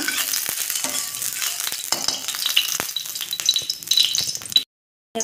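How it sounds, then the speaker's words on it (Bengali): Mustard oil sizzles in a hot wok while a utensil stirs and scrapes, a bright, continuous crackling hiss with sharp clinks and rattles, close and loud, before a sudden brief silence near the end. "আমি কড়াইতে দিয়ে দেবো সর্ষের তেল।"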